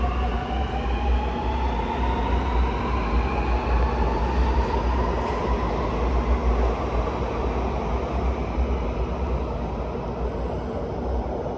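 A Sydney Metro train pulls away from the platform at Victoria Cross station after its doors close, a loud continuous rumble and rising whine of the motors that holds steady throughout, with no talking.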